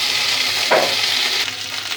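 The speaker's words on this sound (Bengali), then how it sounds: "এবার ভেন্ডিগুলো ভেজে নেব। ভেন্ডিগুলো হালকা ভেজে নিতে হবে।" Okra frying lightly in a pan, a loud close hissing sizzle that swells briefly near the middle, steady and without talk.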